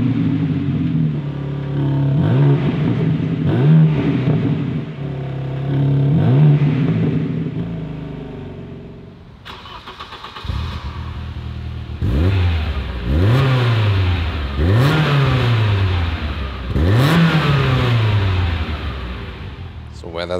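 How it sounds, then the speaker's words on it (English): The 3-liter inline-six bi-turbo of a BMW M3 G80 Competition revs repeatedly, loud rising and falling throttle blips in a steady rhythm, with a short pause before a faster series of sharp revs. "Where does that sound come from? Here, the 3-liter inline six bi-turbo, 480 horsepower or 510 horsepower here in the competition version."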